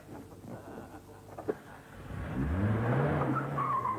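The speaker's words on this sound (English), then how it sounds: "Start the engine, Simon" Car engine cranks and catches, then revs up with a rising, sweeping whine that holds loud and close to the end, after a quieter stretch with a single sharp knock.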